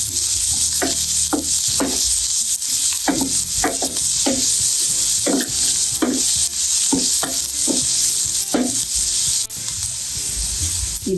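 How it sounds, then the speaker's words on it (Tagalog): Onion, minced garlic and ginger sautéing in a pan that fried tofu, a steady loud sizzle with repeated rhythmic scraping strokes of a spatula, close up. "Sa same na kawali na pinagplituhan ng tokwa ay igisa na po yung onion, minced bawang, and minced luya."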